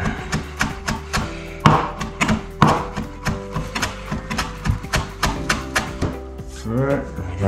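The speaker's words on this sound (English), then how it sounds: "So, chop up a bit of dill." A knife chops dill on a cutting board in a quick, even series of close knocks, with voices talking over parts of it.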